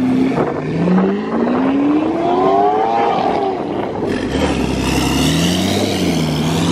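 A Bugatti Chiron hypercar drives past in slow traffic, its engine pitch rising as it pulls away, then a louder, rushing roar sweeping close by before settling into a lower rumble.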